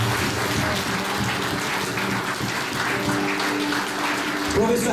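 A church congregation claps together in thanks, a dense, continuous wash of applause filling the room, loud and close, with voices faintly mixed in.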